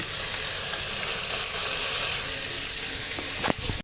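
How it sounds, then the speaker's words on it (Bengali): Onions sizzle steadily in a hot pan, a dense continuous frying hiss, close and loud, with a brief metallic scrape near the end. "এই পেঁয়াজটাকে ভালো করে ভালো করে নরম করে ভাজবো"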